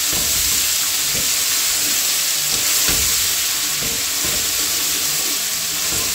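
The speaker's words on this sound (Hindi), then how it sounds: "इनको भी हम इस ब्राउन ओनियन के साथ फ्राई करते हैं" Green chillies frying with browned onions in a pan for haleem, a steady close sizzle with faint stirring clinks, and no talk.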